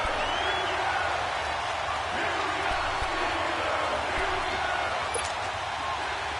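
A stadium crowd in an American football video game roars steadily as a big third down approaches, a continuous distant wash of cheering and murmur with faint thuds.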